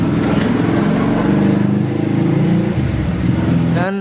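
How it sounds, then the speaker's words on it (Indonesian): A motorbike passes close by on a street, a loud engine drone that swells and fades over several seconds, with a rising whine near the end. "Ntar cuy, ada motor cuy."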